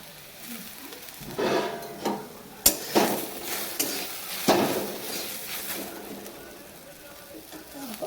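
Jute leaves with chopped onion and chillies frying in a pan, with stirring scrapes and a soft sizzle rising and falling at close range, a few sharp utensil knocks, and voices talking over parts of it.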